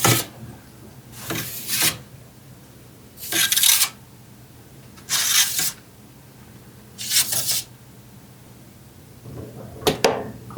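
Five separate bursts of metallic scraping and rattling, each lasting about a second, spaced by quiet pauses, as trays of freeze-dried baby carrots slide out of a Harvest Right freeze dryer and are set down nearby.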